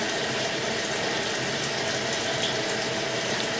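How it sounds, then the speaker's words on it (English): Toilet flushing with a steady, loud rush of running water that stays constant throughout, close by with no pauses and no voices. "Flushing the toilet a little bit too"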